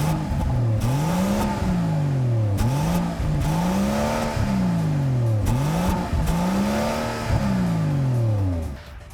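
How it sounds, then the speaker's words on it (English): A 2020 Rolls-Royce Cullinan Black Badge with a V12 and a retuned exhaust revs repeatedly, each rise and fall of the engine note loud and close, in a steady cycle of about four revs with no talking. "Rolls-Royce says they've actually tweaked the exhaust to give it a more meaner sound to it"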